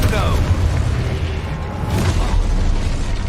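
A Confringo blast spell explodes in Hogwarts Legacy gameplay, a loud, dense, rumbling boom that fills the whole moment amid other game noise.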